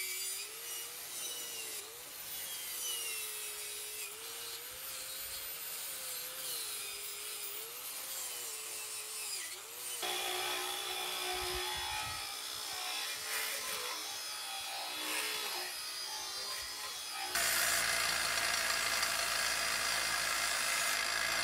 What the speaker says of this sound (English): After all of that cleaning the metal,